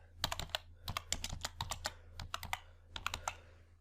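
Keys clatter on a computer keyboard during data entry in an Excel spreadsheet, in short irregular bursts of crisp taps with brief pauses between words, close and clear with no voice.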